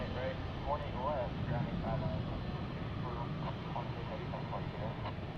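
A Boeing Dreamliner airliner departs DFW airport at night as a steady, distant low roar beneath continuous radio and voice chatter.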